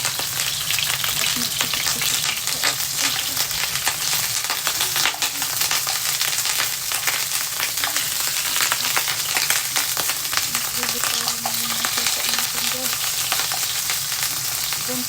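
Shrimp frying in hot oil in a pan, a dense, steady crackling sizzle that stays loud and even throughout with no talking.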